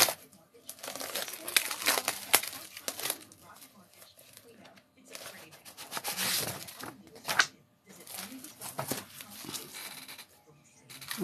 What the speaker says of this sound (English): Get this paper open here and pull a page out.